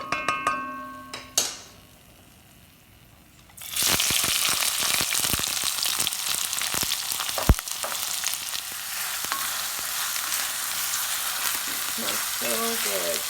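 Onions and chili pepper hit a hot Le Creuset balti dish after a few seconds of quiet handling sounds, bursting into a loud, steady sizzle that continues with occasional clinks and stirring.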